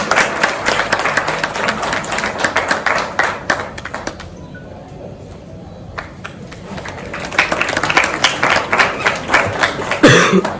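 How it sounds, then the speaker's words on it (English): Audience applause welcoming a guest at an Indian talk and interview event, uneven clapping that dips into a brief lull with coughs and murmurs, then swells again near the end. "Huge round of applause for Mr. Jasmeet Singh Sethi."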